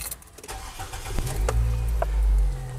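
A car engine cranks briefly, then catches and settles into a low, steady rumble nearby.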